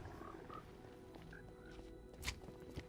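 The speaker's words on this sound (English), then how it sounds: "That's a lot of frogs." Frogs croak in a Minecraft world, with a few short, faint croaks scattered against a quiet ambient background and a couple of soft clicks.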